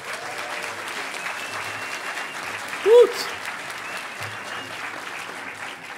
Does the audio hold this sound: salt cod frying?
no